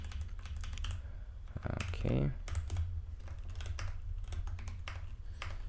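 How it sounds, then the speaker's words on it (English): Rapid clicks of typing on a new computer keyboard while entering git commits, with irregular bursts of close, crisp key taps. Someone briefly speaks partway through. "I'm still trying to get used to the new keyboard, so apologize for a lot of missing keystrokes."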